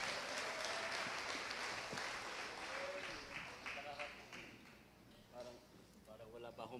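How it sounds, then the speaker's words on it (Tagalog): Congregation applause at a church youth ministry panel gathering, a wash of clapping with voices and shouts mixed in, loud at first and thinning slightly as talk rises toward the end. "Malakas pong palakpak para kay Lord!"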